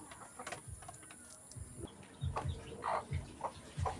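Chickens cluck in short, scattered bursts against a quiet background, with a few sharper calls toward the end.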